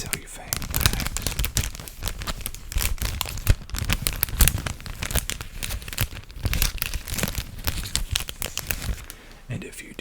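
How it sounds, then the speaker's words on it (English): Cellophane bags crinkle close up in dense, sharp bursts of crackling rustle, handled continuously with uneven rhythm, while a soft voice talks over the sound. "I have these cellophane bags."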